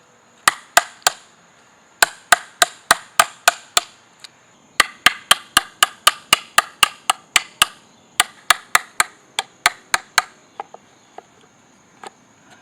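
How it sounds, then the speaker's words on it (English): Chisel struck repeatedly with a mallet to clear out wood for a mailbox post, sharp close knocks in quick irregular bursts with short pauses between groups, tapering to a few last taps. "I can just kind of break them and then just pop them off and then chisel out the remainder"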